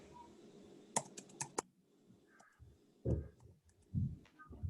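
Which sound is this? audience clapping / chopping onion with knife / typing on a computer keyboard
typing on a computer keyboard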